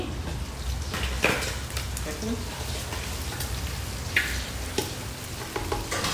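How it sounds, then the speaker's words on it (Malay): Steady crackling sizzle of sambal pengantin ingredients frying in hot oil, with a few sharp pops and spatters breaking through now and then. "Dan memang meletup ya kalau kita goreng."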